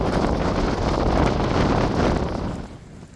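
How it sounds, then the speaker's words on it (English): Prayer flags flap in strong wind on the shore of Yamdrok Lake in the Tibetan Himalayas, heard as a loud, continuous gusty roar with buffeting against the microphone that eases off toward the end. "The sounds of the prayer flags flying in the wind are so soothing."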